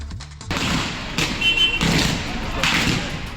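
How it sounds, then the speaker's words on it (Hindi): An old, worn-out high-tension power line in Bulandshahr, Uttar Pradesh, sparks with loud, continuous crackling and popping like firecrackers, with sharp bursts that flare up repeatedly over a few seconds. "ये आवाज पटाखों की नहीं बल्कि जर्जर बिजली की हाई टेंशन लाइन में हो रही स्पार्किंग की है"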